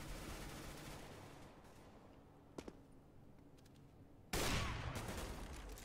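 Gunfire in the video game CS:GO, a couple of quick sharp shots midway over a low steady game hum, then a louder, denser burst of noise near the end.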